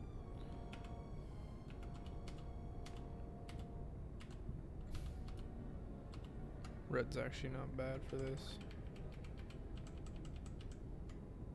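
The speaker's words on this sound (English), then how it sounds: "I'm just messing with my keyboard." Computer keyboard typed on in a room while a game plays, scattered key clicks and short bursts of tapping over a steady background hum, with a person talking briefly partway through.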